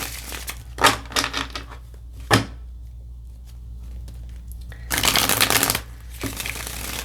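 Tarot cards are shuffled in quick, crisp bursts of riffling and flicking, close up, separated by short pauses.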